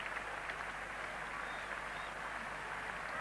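A large cricket crowd at Lord's during the 1975 Ashes Test applauds England captain Tony Greig, with steady, sustained clapping heard at a distance and filling the whole stretch.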